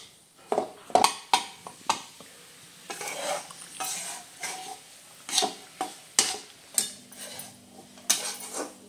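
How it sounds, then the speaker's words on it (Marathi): A spoon scrapes and stirs gram flour roasting in ghee in a pan for besan laddoos, with a soft sizzle beneath irregular clinks and scrapes against the metal, close and moderately loud with no talking. "बघा आपलं बेसन अजून थोडंसं भाजत आहे।"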